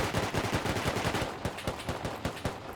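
Rapid automatic gunfire in the survival video game Rust, a dense string of sharp, loud shots firing in quick bursts with a few brief gaps, continuous for nearly three seconds.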